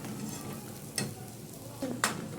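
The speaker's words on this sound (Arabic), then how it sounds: "الطماطم بتستوي معايا بتتحمر اهي" Tomatoes sizzling softly in a pan, with a low frying hiss and a couple of brief utensil clinks, near and quiet.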